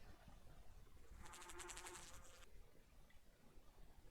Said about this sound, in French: L'abeille de la vie.